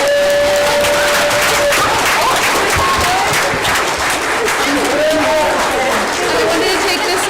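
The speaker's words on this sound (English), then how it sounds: "Let's give them another round of applause." Audience applause after a school stage performance of Robin Hood the Musical fills the hall, a steady dense wash of clapping with scattered crowd chatter and faint whoops throughout.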